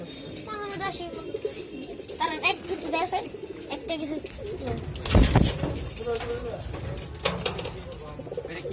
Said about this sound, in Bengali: কি কবুতর এটা